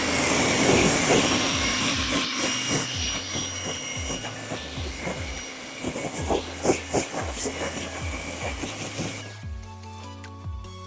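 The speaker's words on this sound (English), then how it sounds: "We're going to go ahead and rinse it off." A pressure water spray hisses steadily while rinsing wheel and tire cleaner off a vehicle's wheel, loud and close, with a low rhythmic pumping underneath before it cuts off near the end.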